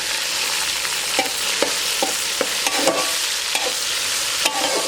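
Chopped tomatoes and green chillies fry with browned onions in a pot: a steady close sizzle carries regular knocks and scrapes from a spoon stirring the mixture, with no talking.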